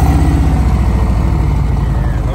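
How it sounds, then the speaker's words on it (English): Loud, steady idle from a 2021 Harley-Davidson Road Glide Special with the 114 engine and aftermarket exhaust, a deep continuous rumble with a slightly lumpy pulse running alone throughout. "Let's take a listen to this exhaust."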